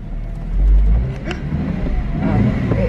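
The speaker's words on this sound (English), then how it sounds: "I decided that I'm gonna drive. Do a little off-roading. Got a little stick shift here" A manual stick-shift car rumbles and revs as it pulls away off-road, a close engine swell early on settling into a steady drone.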